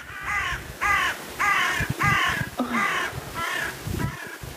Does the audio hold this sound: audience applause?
no